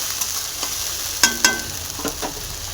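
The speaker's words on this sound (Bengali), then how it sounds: "আদা বাটা জিরে বাটা একসাথে ভালো করে মিক্স করে নেব।" Ginger and cumin paste being stirred into spices in a hot frying pan for macher jhol, a steady low sizzle broken by several sharp scraping strokes of the spoon.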